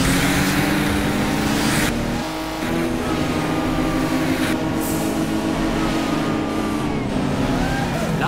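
Race cars roar continuously in the video game Juiced 2, engines droning and shifting pitch with a brief dip partway through, loud and close throughout.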